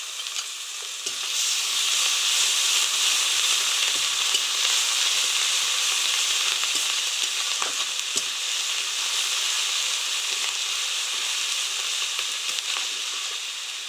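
Ginger garlic paste sizzles in hot oil with potato and pointed gourd for a Bengali curry: a constant bright frying hiss with faint scrapes of stirring, close and unbroken after a quiet first second.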